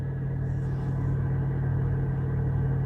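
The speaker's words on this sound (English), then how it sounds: "This truck is the one that's been trying to back." A truck backing up at a distribution center, its engine holding a steady low diesel rumble and hum close by, constant and unbroken with no speech over it.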